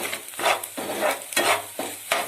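Fried egg with salt for chicken fried rice is stirred in a pan, making four or five rhythmic scraping strokes over a soft sizzle, close and moderately loud.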